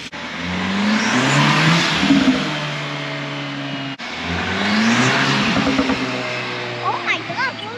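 An Audi S3 8Y with a Unitronic cold air intake revs hard, holding a loud, sustained engine roar with a brief dip in the middle before it climbs again. Voices can be heard faintly under the engine.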